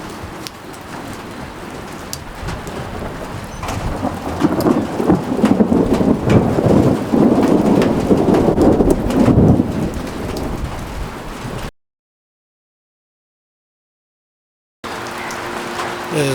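Rolling thunder rumbles loudly through a rainstorm at Lake Illawarra, New South Wales, Australia, swelling in the middle over steady rain before a brief dropout.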